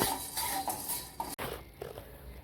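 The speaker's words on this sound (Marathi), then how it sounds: "गरम कढईत अशी थोडीशी हलवून घेतली" Roasted dal stirred briefly in a hot kadhai, a dry granular scraping and light metal clinks from the spoon, close and steady for a couple of seconds.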